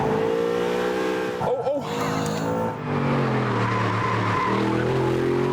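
A high-revving Audi engine howls with rising and falling pitch, broken briefly by a tire screech, loud and close throughout.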